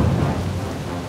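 Rain falling with a deep thunder rumble in World of Warcraft, a steady, fairly loud wash with heavy low-end weight and no talk.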